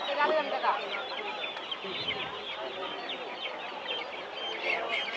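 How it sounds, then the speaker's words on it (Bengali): Tiger-breed chickens at a busy poultry market give off a continuous mass of clucking and squawking, fairly loud and steady throughout, with crowd noise and chatter around them. "এগুলো সব টাইগার মুরগি"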